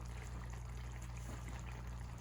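Pasta water poured into a pan of sausage, peppers and onions, a soft continuous splashing pour that stays faint and even throughout.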